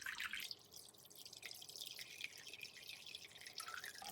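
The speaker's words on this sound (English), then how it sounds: "This is right out of the tap." A faint, steady stream of warm water runs from a kitchen tap, soft and hissy, with no voices.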